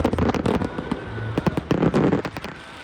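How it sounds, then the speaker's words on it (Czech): Bursts and crackling blasts from a large traditional New Year pyrotechnic display in the Moravian-Silesian Region, with cascading fountains from four platforms, popping in rapid irregular volleys, loud and dense with no voices. "Budeme mít 20-minutový tradiční pyrotechnický ohňostroj"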